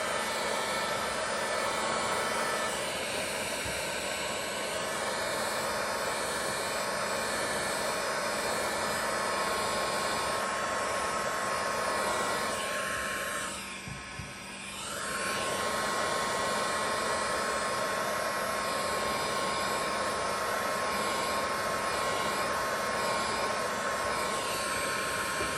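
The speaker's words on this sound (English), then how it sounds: "Got a heat gun. Try to take it off, heat them up" A heat gun blows steadily for a long stretch while warming the car emblems on a 1970 Chevelle, a close, constant whooshing roar with one brief dip midway.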